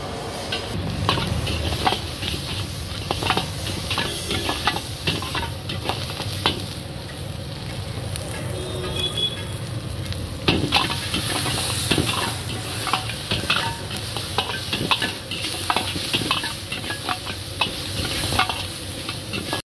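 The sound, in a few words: stir-frying Manchurian noodles at a street food stall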